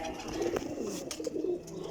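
Racing pigeons coo softly and repeatedly at close range, with a few low, rolling calls overlapping across two seconds against quiet background noise.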